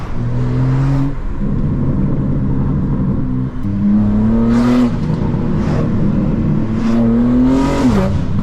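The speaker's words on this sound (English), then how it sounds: "I feel like it's less burbles and just more pops now" A BMW G80 engine with a catless downpipe rumbles and revs close by, with sharp crackling pops bursting from the exhaust several times.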